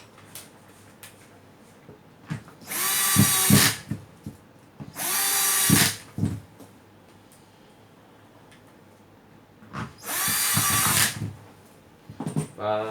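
A Hitachi DV13VSS 13 mm electric drill, just fitted with new carbon brushes, runs in three loud, sustained bursts of a few seconds each with short pauses between them, and some faint background sound fills the gaps.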